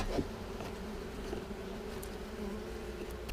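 Honeybees buzz steadily around beehives near willows on a farm, a faint continuous drone with a few insects passing close, no voices.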